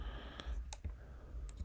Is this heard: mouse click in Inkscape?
yes